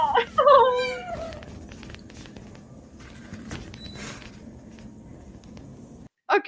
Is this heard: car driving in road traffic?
no